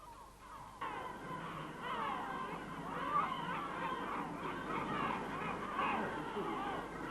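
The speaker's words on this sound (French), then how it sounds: "Les falaises du Cap Carbon accueillent aussi une importante colonie de goélands leucophées, qui nidifient en grand nombre dans ces falaises." A colony of yellow-legged gulls calls over sea cliffs at Cap Carbon, a dense, continuous chorus of overlapping harsh cries at moderate distance, steady throughout with no pauses.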